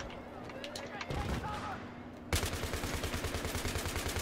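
Gunfire in the video game Battlefield 3 on Xbox One, with a light-machine-gun-style rapid stream of shots in the second half after a busier mix of game noise, heard under voice chat.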